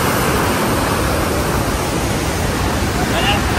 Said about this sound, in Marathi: आणि छान असा धबधबा